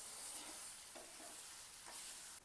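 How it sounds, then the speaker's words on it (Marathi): Soaked puffed rice is sautéed in a pan with coriander, a faint, brief sizzle broken by a few soft stirring scrapes. "भिजवलेले मुरमुरे टाकायचे। आता याला छानपैकी परतून घेऊया।"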